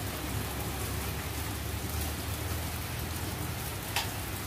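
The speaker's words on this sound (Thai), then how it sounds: "ฝนตกไปไหนไม่ได้เลยค่ะทุกคน" Steady, close rain pours down at a seaside holiday house in Thailand, a dense, even hiss with faint drips and a soft low rumble underneath.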